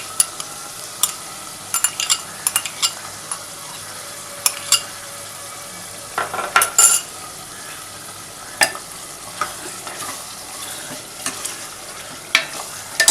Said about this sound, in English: Now we are adding vegetable ghee to it.